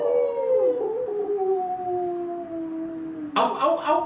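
On a radio broadcast, a voice imitates a wolf howling at the moon with a long, wavering, sliding howl, followed by a couple of short, sharper yelps near the end.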